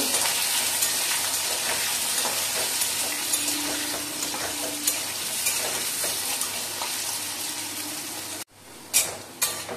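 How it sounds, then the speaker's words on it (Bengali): Potatoes fry in oil with dried red chilli and nigella seeds, a continuous close sizzle with stirring and crackle that cuts off abruptly near the end, followed by a few short clanks. "আলুটা একটু লাল লাল করে ভেজে নেব।"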